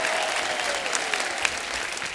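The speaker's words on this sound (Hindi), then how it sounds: "बड़ो जोरदार तालियां हो जाए।" A studio audience at a comedy show breaks into dense, continuous applause, with a voice faintly audible underneath during the short burst.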